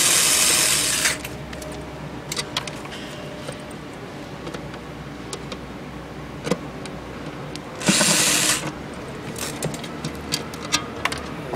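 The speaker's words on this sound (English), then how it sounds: "And so I've taken 2 of the screws out already, and take the other 2 out." A power screwdriver removes screws from the speaker of a guitar combo amp in two loud whirring bursts, at the start and past the middle, with small clicks and handling knocks between them.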